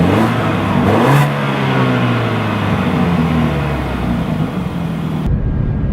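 A 2014 BMW 328i's raspy exhaust climbs in a sharp rev, then settles into a loud, sustained engine drone close by before cutting off abruptly near the end.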